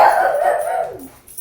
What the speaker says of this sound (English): He's just barking at the roaches in the wall.